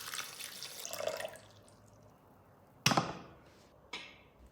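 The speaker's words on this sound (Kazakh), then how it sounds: "су құямыз." Water pours into a Thermomix bowl holding blended fruit and sugar, a soft splashing stream followed by two sharper splashes or clinks, quiet and close with no voices.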